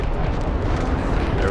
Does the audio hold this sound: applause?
no